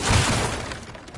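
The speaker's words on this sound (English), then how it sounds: "back to smashing through things for fun and profit" Breakable objects shatter and crumble in a burst of smashing in God of War Ragnarok, loud at the start and then trailing off into scattered debris, with no voices.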